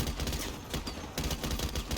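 Gunfire in Call of Duty: Modern Warfare Remastered, with rapid bursts of automatic fire from an M249 light machine gun, dense, loud and close. The bursts are broken by a short pause midway.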